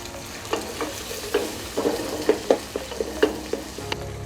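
Whole spices like black pepper, cardamom and bay leaves frying with roughly chopped onions in hot oil, a soft continuous sizzle broken by repeated sharp spoon scrapes and knocks as the pan is stirred, close up with no talking.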